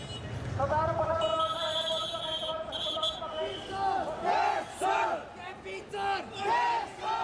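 A protesting crowd in Nepal's Gen Z uprising, gathered near the parliament under curfew, shouts and chants loudly in surging waves of massed voices that rise and fall throughout.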